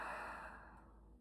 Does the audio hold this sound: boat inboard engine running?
no